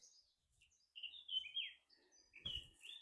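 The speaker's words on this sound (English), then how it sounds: "Oh, it's a black cap." Eurasian blackcap singing in a Welsh Celtic forest nature reserve, a quick run of bright, warbling phrases with short pauses between them, clear and fairly close, no voices.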